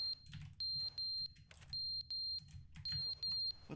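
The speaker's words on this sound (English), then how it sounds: "A fire alarm?" Fire alarm in the video game The Stanley Parable, a loud electronic beep repeating in a steady on-off rhythm, each burst about a third of a second, with no talk.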